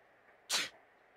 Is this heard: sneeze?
yes